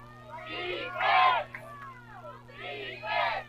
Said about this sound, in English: Lone Peak faithful trying to cheer on their night defense here